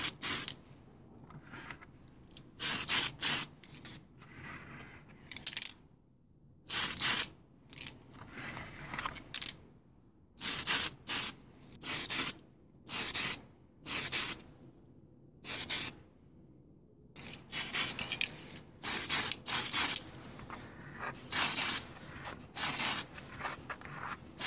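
Tamiya TS80 Flat Clear aerosol sprayed onto a model Sherman tank, a series of short, sharp hissing bursts of about a second each, close and loud, with quiet gaps between them.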